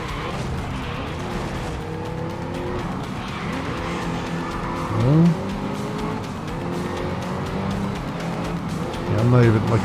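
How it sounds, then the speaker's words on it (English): A race car in GRID Legends drives with a steady engine drone, and two short tire squeals come as it skids through corners while a player talks over the game sound. "Especially with all the skidding I'm doing."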